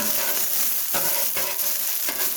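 Onions fry on a Blackstone 36-inch griddle while smash burgers cook, giving a loud, steady sizzle with scraping stir accents that recur every second or so; no voices.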